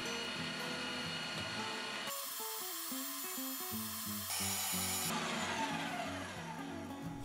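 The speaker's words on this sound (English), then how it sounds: "this has to go through the grinder once more" A meat grinder mincing pork for pies: a continuous motor whir with a shifting, wavering pitch and a grinding mechanical texture, steady and fairly quiet throughout.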